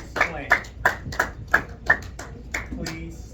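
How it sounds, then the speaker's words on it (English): Students in a classroom clap in a steady rhythm, about seven distinct claps in unison, while a teacher's voice carries over them. "Give Gerard a round of applause"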